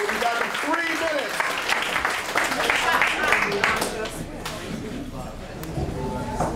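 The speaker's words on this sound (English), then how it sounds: "quick round of applause for our first two performers" A small audience at a 516 ARTS spoken-word event claps for the first two performers, a dense, steady patter of hands that swells slightly in the middle and carries on throughout, with voices murmuring underneath.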